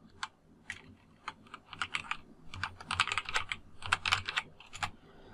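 A computer keyboard clatters as a Python comment is typed, with irregular bursts of crisp keystrokes that grow denser and faster midway, close and clear with no talking.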